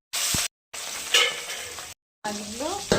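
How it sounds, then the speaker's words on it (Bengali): Coriander, cumin, ginger, green and dried chillies and tomato frying and being stirred in hot oil in a home kitchen, a bright close sizzle cut by two brief silences, with a short utensil scrape and faint background sounds. "ধনে জিরে আদা কাঁচা লঙ্কা শুকনো লঙ্কা আর একটা টমেটো দেবো দিয়ে ভেজে নেবো"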